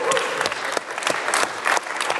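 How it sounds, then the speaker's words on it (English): An audience claps and cheers steadily at an awards ceremony at a security conference, a dense wash of applause with brief swells and no talk. "Round of applause."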